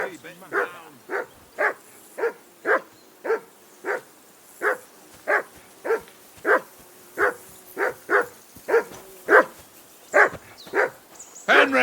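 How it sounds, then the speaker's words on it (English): A dog barks from Kingdom Come: Deliverance II, roughly eighteen sharp, evenly spaced barks at a steady rhythm, loud and close, with a faint whimper near the end. "That barking was a pain in the"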